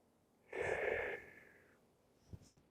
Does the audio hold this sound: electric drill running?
no